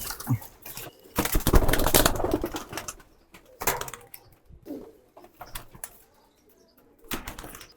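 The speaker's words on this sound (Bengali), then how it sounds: "এখানে কিছু কবুতর আছে এগুলো বের করে দিই" Pigeons in a loft flapping their wings in several loud bursts as they are pushed out, with lighter rustling and scuffing between the bursts and near-silent gaps.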